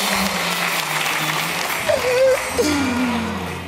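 Studio audience applause on a Turkish entertainment show, a steady wash of clapping through most of the stretch with a couple of brief voiced sounds rising over it.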